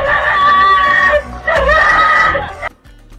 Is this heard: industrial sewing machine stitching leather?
no